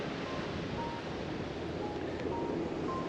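Steady broadband roar of surf on the Shetland coast with a constant wash of water and wind, no distinct breaks between waves, loud and continuous throughout.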